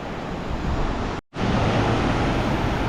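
Ocean surf on a Costa Rica beach, a steady loud wash of breaking waves with wind buffeting the microphone, briefly cut by a short gap of silence midway.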